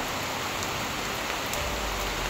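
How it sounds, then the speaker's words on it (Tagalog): Heavy rain pours steadily outdoors at dusk, a dense, loud, unbroken hiss with a few sharper drop impacts, and no voices. "saka malakas yung ulan"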